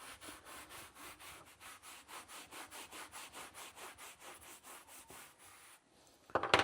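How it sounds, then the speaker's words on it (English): Stiff brush scrubbed back and forth over a car floor mat worked with foaming cleaning product, a quick regular rhythm of rasping strokes, close and fairly quiet, stopping near the end before a brief clatter. "I'm just going to brush the rest of the mat in"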